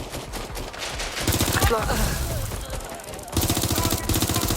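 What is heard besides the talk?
gunfire in the video game Watch Dogs: Legion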